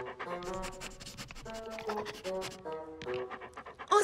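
A cartoon dog pants in quick rhythmic breaths, mixed with scratchy scribbling sounds and light background music in a French animated children's show.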